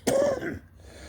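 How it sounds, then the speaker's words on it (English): A single sharp cough or throat-clearing burst from a man, loud and close, followed by a short tail of fainter breathy sound. "Excuse me for that cough."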